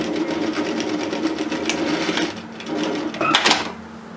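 A sewing machine stitches a one-centimetre seam on an apron, running in a steady fast whir for several seconds, pausing briefly, then a short burst of back-tacking at the end.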